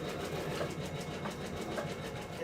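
Small jacket being stitched on a sewing machine, a steady continuous mechanical whir with a faint rapid rhythmic clatter running unbroken throughout, close and moderately loud.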